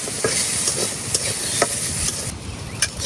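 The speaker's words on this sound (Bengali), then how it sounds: "এই যে আমার পেঁয়াজ আর রসুন গুলো কিন্তু ভাজা হয়ে গেছে" Onion and garlic dry-fry in an oil-free wok with a steady, close sizzle, broken by repeated scraping stir strokes of a spatula against the pan.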